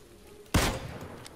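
A single loud gunshot from a weapon in PUBG (PlayerUnknown's Battlegrounds) cracks sharply, then a brief decaying echo trails off into quiet ambient game noise.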